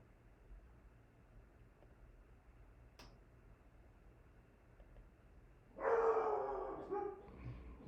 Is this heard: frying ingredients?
no